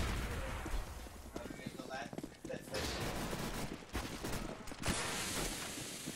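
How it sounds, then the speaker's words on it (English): Bursts of MAC-10 submachine gun fire in a Counter-Strike tournament match, quick clattering shots heard faintly beneath game ambience and a caster's commentary. "Indy gets two kills with a MAC-10 here"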